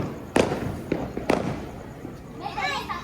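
Firecrackers bang at a rural New Year celebration, several sharp close explosions in quick succession, with children's voices chattering afterward.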